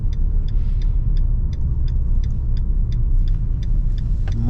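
Inside a Maruti Suzuki Brezza driving through Kathmandu traffic near Mid Baneshwor, a steady loud road rumble runs throughout while a regular ticking, like a turn indicator, repeats over it.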